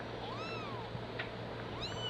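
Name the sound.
kitten meowing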